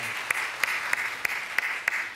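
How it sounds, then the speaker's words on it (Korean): A church congregation claps in a steady, even rhythm, sharp beats roughly three per second over a soft room murmur, moderately distant. "하나님께 영광의 박수를 드립니다."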